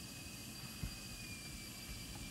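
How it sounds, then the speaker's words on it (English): An F/A-18C jet engine spooling up during startup, heard as a steady, quiet whine and rumble with high tonal lines and a single small thump, with no talk. "It's gonna spool up. So now both engines started."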